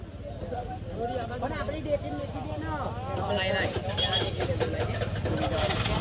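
A motorbike engine starts up and revs near the microphone in a rural Gujarati village, rising out of lively chatter from several people nearby who keep talking over it.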